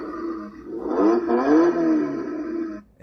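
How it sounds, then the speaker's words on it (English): The small electric motor of a ride-on toy Lamborghini Aventador whirs up in rising and falling revving tones, steady for a couple of seconds before cutting off abruptly. "It even comes with like revving motor"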